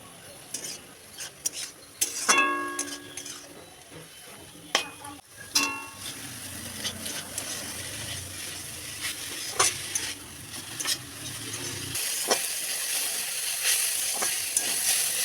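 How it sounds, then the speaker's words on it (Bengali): Bottle gourd greens with garlic sizzle steadily in a pan, with a spoon scraping and clinking against the metal early on before the frying settles into a continuous hiss. "এখন ঢাকনা তুলে ভালো করে ভেজে নেব।"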